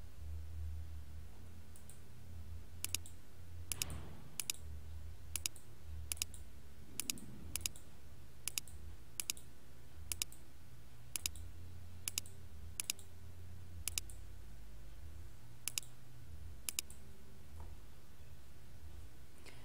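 Crisp, faint computer mouse clicks, about seventeen single taps spaced a second or so apart against a quiet hum, with brief rustling near the start.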